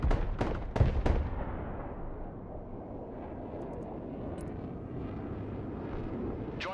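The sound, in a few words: bombing air strike in a video game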